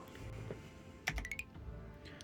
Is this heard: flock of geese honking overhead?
no